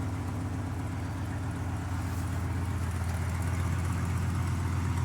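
A 1979 Ford motorhome engine idles steadily at close range, a low rumbling drone with a constant uneven throb and no voices over it.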